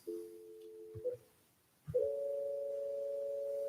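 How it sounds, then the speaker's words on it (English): A steady telephone dial tone hums, cuts out briefly with a click, then returns and holds continuously; no voices. "Get a dial tone of 9."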